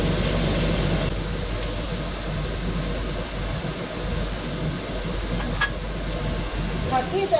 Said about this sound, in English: Saute the onion for 2 minutes.